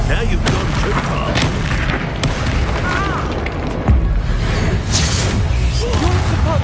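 Confringo and Incendio spells explode in repeated booming bursts during Hogwarts Legacy combat, loud and close, with whooshes between impacts. Voices shout throughout.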